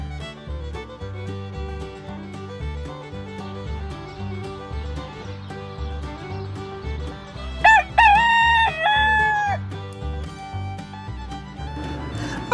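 A rooster crows once, loud and wavering, partway through, over steady upbeat background music with a strong beat.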